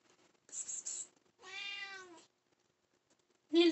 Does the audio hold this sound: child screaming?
no